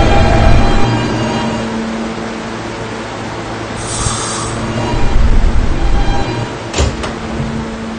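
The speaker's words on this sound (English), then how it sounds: "This is a Potatoburg bound E train." Rumbling rail noise of an R160B Siemens E subway train standing in a station, with a hiss and a sharp metallic clank near the end, like doors or couplings.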